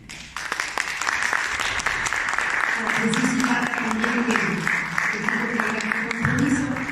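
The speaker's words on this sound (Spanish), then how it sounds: "También me parece que es merecido un aplauso para ti." An audience applauds at a talk, steady clapping that starts abruptly and keeps on at an even level while voices speak over it.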